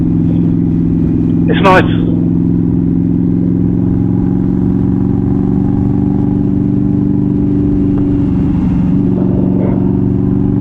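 A 2020 Indian Scout Bobber motorcycle cruises along with a steady, loud engine drone and wind rumble throughout, while a rider talks briefly over it.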